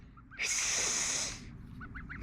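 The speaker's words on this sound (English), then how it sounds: "Chickens got a little bit too close and we heard the first goose." A goose lets out one loud, sustained honk close by near chickens, followed by a few fainter, shorter honks or clucks afterward.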